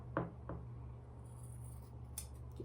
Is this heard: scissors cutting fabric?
yes